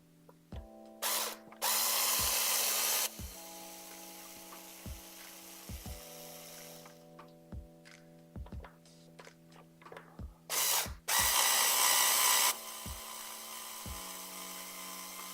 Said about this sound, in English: we're gonna start taking apart some Phillips screws